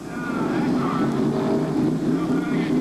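Number 6 race car engine revving in the pits at a weekly short-track race: a loud, sustained engine drone that builds slightly and holds steady, close and noisy with wind.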